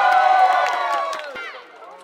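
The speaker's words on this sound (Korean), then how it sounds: "멋진 우리 김민성 선수에게 응원의 박수!" A baseball stadium crowd cheers and shouts loudly for player Kim Min-sung, with a dense roar of many voices that gradually fades over a couple of seconds.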